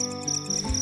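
Crickets chirp steadily at night near a dimly lit village food stall, a continuous high trill with a faint low thump near the end.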